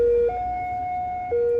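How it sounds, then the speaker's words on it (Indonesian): Railway level crossing warning siren at a train crossing, sounding as a steady electronic tone that steps up in pitch and then drops back, clear and fairly near. "sirine udah mulai berbunyi"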